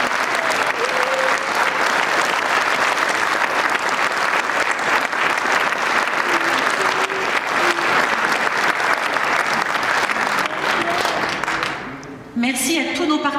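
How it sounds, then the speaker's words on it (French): A large audience at a municipal New Year's wishes evening in Morangis applauds loudly and steadily for about twelve seconds, then the clapping fades as a voice comes in over it. "Je vous demande tout particulièrement de réserver un tonnerre d'applaudissements au service animation locale"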